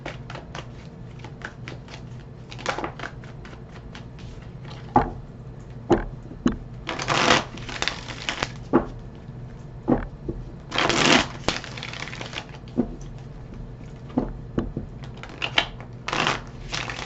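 Psychic Tarot and Cosmic Tarot decks being shuffled, giving irregular papery riffles and soft card slaps in short bursts, fairly close and alone over a faint background hum.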